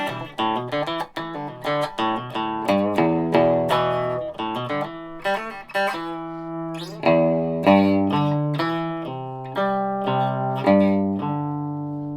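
Clean electric guitar, a Strat-style guitar through an Orange TH30 amp's clean channel with a reverb pedal, playing a melodic line of plucked notes and chords, with light reverb, clear and up front.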